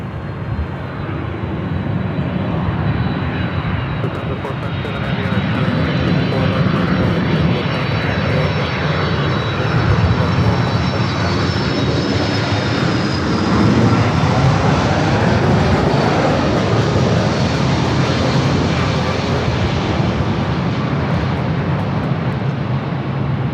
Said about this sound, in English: Coming in from Honolulu, flight 422, 767 to 300 ER.